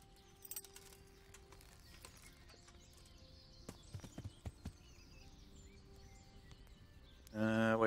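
Horse hooves clip-clopping in the video game Kingdom Come: Deliverance, a sparse run of faint hoof knocks and tack jingles over quiet ambience, ending in a sudden louder burst.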